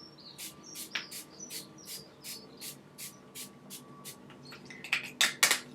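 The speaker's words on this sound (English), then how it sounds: "I'm going to spray my bed head, TIGI bed head maxed out, and this is not for faint-hearted. This is hardcore spray that gives you helmet head." Short, hard bursts of TIGI Bed Head Maxed Out hairspray hiss out close by near the end, following a run of quieter, regular chirping ticks.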